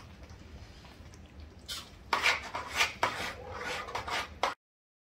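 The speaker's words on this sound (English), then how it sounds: "Give it a nice mix again." A metal spoon scrapes and stirs chicken tikka masala with fresh coriander in a pan, a run of close rasping strokes and clinks over a faint low sizzle, ending abruptly.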